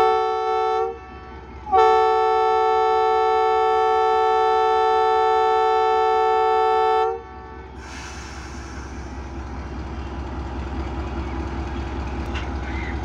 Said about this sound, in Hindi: 10 डाउन अल्लामा इकबाल एक्सप्रेस डिपार्ट करने लगी है जहानिया रेलवे स्टेशन से